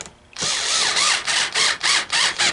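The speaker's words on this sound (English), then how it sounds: "This is just a 4-volt driver." A small 4-volt electric screwdriver drives screws into a vending coin hopper, its whining motor starting abruptly and then rising and falling in short pulsing bursts as it works, close and loud, with no talking.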